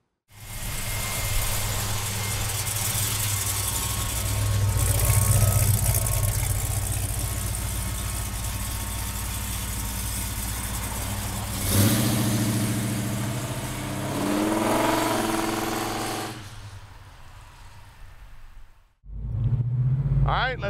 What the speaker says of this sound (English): let's go for a ride in this 70 Chevelle with the 502 under the hood. Listen to that exhaust purr.